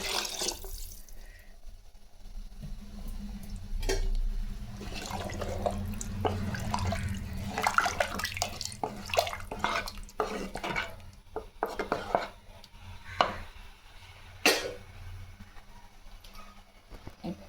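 Water from a rinsed mixer jar is poured into a pot of horse gram and potato kurma masala, splashing and trickling alongside clinks of metal utensils and stirring, fairly close and quiet.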